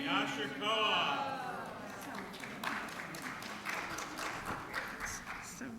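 Scattered applause from a synagogue congregation at a Bat Mitzvah, a broad patter of clapping that starts fuller and thins out over several seconds, with voices talking underneath.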